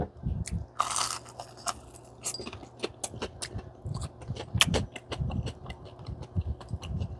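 Crispy Maxicana fried chicken is bitten and chewed up close. Sharp crunches repeat in an irregular rhythm with quieter chewing between them, and no one speaks.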